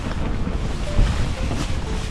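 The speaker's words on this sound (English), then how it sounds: "It's gonna be a little windier here." Wind blowing across an exposed campsite in Torres del Paine, Patagonia, a low rumbling buffet against the microphone, steady and fairly loud with a brief gust in the middle, no voices.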